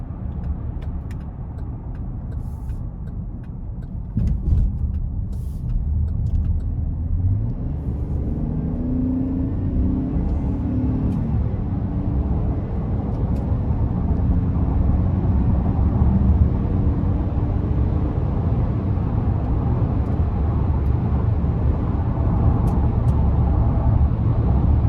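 A 2024 Chevrolet Traverse Limited LT pulls onto the interstate under acceleration, its engine and road roar building into a steady, loud drone with tire rumble, continuous throughout with no talk.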